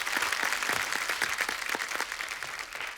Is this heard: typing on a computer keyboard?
no